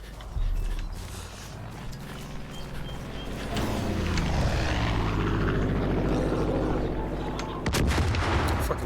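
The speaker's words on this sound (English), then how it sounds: "Fucking plane, man, I hate that goddamn plane." In Far Cry 5, an aircraft engine drones loudly and sweeps past overhead while heavy gunfire and explosive booms pound beneath it, with a sharp burst near the end.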